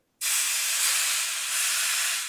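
Eye fillet steak hits a hot grill with an abrupt onset and a loud, steady searing hiss that holds evenly throughout, close and alone.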